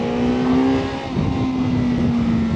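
Suzuki GSX-S1000 GX motorcycle lifting into a wheelie on a track, its engine holding a loud, steady high-revving drone close by for the whole stretch with a slight dip midway, no talking.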